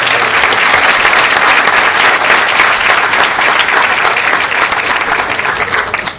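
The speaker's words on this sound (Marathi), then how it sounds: "एकदा जोरदार टाळ्या यांच्या." An audience at a lawyers' gathering breaks into loud, continuous applause that holds steady for several seconds with no talking, then tapers slightly at the end.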